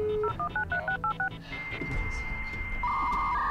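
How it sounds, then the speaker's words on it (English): Dial-up modem sound inside the video game Clandestine: a quick run of DTMF-like dialing tones, then a steady carrier whine and a crackling handshake burst, loud and alone with no talk. "Why does it have the dial-up sound?"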